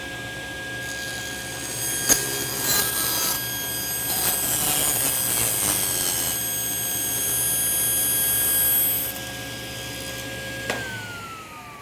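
A table saw with a steady motor whine cuts a thin 1/16-inch wood strip, its blade tone rising and falling as the wood feeds through before the motor spins down.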